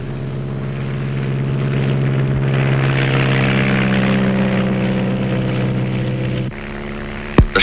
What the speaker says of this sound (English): The shadows of our two small planes fall on rainforests